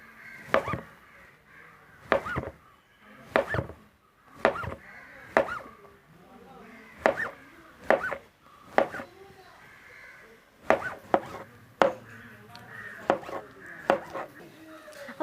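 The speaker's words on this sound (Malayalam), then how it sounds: "ഇനി നമുക്ക് റൗണ്ടിനായിട്ടൊന്ന് കട്ട് ചെയ്തെടുക്കാം" A knife chops peeled bananas into round slices for banana payasam, landing as a steady run of sharp, close thuds on a board with brief pauses between strokes and no talk.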